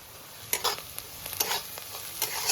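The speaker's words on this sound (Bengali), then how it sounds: "বাবু বাচ্চা দেখুন পেঁয়াজটা কি সুন্দর ভাজা ভাজা হয়ে গেছে" Onions frying with curry leaves in a pan for sooji upma, soft sizzling under intermittent scraping stirs from a utensil, close and fairly quiet.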